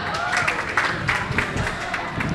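An audience at the Jakarta Broadcasting Expo 2022 gives a short burst of clapping, uneven and moderately loud, with voices in the background.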